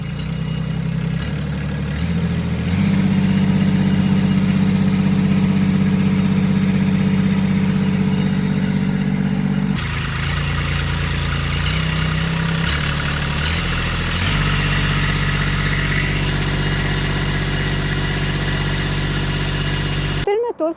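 A Kubota tractor engine runs steadily at close range during a lift test, its low droning hum shifting pitch as the load changes, loud throughout with a brief dip midway.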